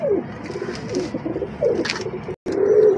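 Pigeons coo repeatedly at close range, low throaty calls rising and falling in short bursts with a brief gap, set in a bird market among other birds.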